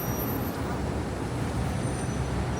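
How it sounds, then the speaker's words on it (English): Steady traffic roar fills a New York City street on 6th Avenue, with cars and buses passing close in a continuous wash of engine and tyre noise, and a faint high squeal of brakes. "Look down this way at all the cars"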